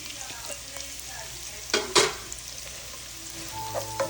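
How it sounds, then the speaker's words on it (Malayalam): Sliced onions fry alongside beef in a pan, a low sizzling bed with a couple of sharp scraping stirs in the middle and soft spatula taps toward the end. "അതിൻ്റെ കൂടെ നമുക്ക് ബാക്കിയിരിക്കുന്ന നമ്മുടെ സവോള ഇട്ട് കൊടുക്കാം"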